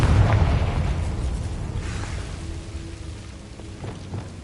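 A Confringo blasting spell detonates with a deep booming explosion at the start, its rumble slowly fading into a low, noisy tail.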